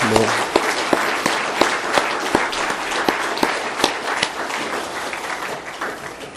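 Applause from a church congregation at a pastor's installation service continues steadily, with a few louder individual claps standing out near the microphone. A faint voice may be present underneath.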